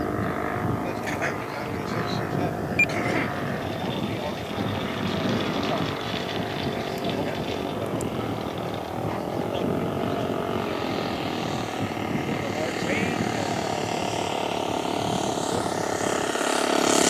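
A de Havilland Tiger Moth biplane, G-TIGA, comes in to land, its propeller engine droning steadily and rising slightly in loudness toward the end, with wind noise and occasional voices over it.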